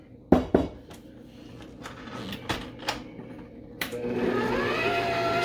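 An electric mixer blends flour into cream cheese pound cake batter, starting with a few sharp clunks and rattles at low speed, then rising into a steady, louder whirring hum near the end.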